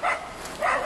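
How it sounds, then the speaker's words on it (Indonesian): A small dog at a riverside house gives two quick sharp yaps at close range, loud and alone. "yang menggonggong yang kecil"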